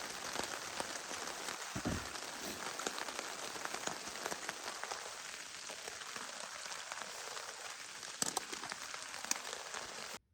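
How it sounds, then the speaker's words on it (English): Steady rain patters on a tarp shelter at a wilderness campsite, a constant dense hiss of drops with a few louder individual taps, soft and close with no talk. "Out in the rain. Under our tarp."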